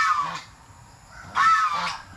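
Goose honking in two clear bursts, a pet goose named Bagwis calling loudly and close, each call a harsh nasal honk with a short pause between.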